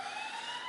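An emergency vehicle siren sounds down the road, a brief steady high wail held in the distance with no talking.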